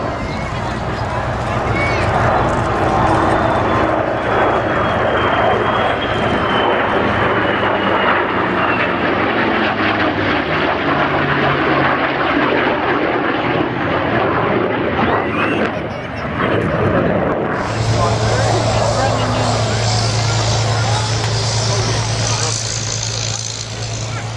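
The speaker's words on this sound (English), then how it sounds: "here comes our lovely formation, led by Cam in that P47" Aircraft formation led by a P-47 flying past at an airshow: a loud, sustained piston-engine roar that swells and shifts in pitch, continuous throughout, with a commentator talking over it.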